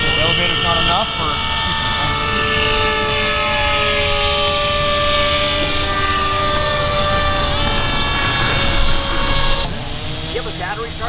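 A radio-controlled model jet aircraft, a turbine-powered scale model, makes a scale takeoff at a model flying field. The turbine gives a loud, steady high-pitched whine and roar throughout, with people talking nearby.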